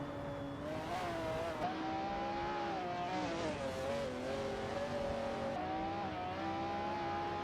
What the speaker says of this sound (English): We just witnessed an exciting race featuring artificial intelligence-driven cars.